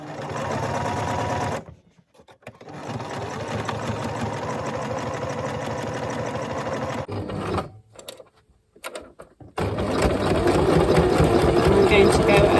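A sewing machine stitches a drawstring rucksack seam, going over it forwards and backwards. The close, rapid motor whirr and needle chatter run in long bursts, broken by a few short pauses and brief stops before a louder final run.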